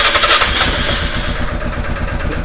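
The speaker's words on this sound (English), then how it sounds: "It's the time to start up the Grizzly 450." A Grizzly 450 ATV engine cranking on electric start and catching, loud and close, settling into a rapid throbbing idle.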